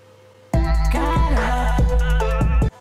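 A short sung phrase is heard with tight, closely spaced echoes that blur into the voice, cutting off cleanly at the end.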